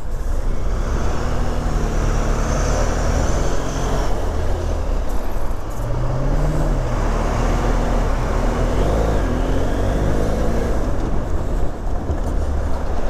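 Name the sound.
road traffic, cars passing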